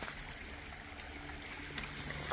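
Small creek on the Appalachian Trail flowing steadily, a soft continuous trickle and wash of water close by with no voices, even and unbroken throughout.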